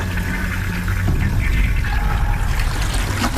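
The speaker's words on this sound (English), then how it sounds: "Like, literally the toilet would flush." Toilet flushing in a bathroom, a steady rushing gurgle of water that lasts the whole few seconds at fairly loud level, with no voices.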